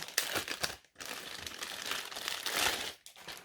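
Plastic packaging bag of a Chieftec Chieftronic NOVA ARGB case fan crinkles close up in bursts of dry crackling, with a brief pause near one second and another near three.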